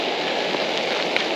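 Heavy rain pours steadily while camping in an abandoned quarry, a dense, continuous hiss close by with a couple of brief louder drips and no voices.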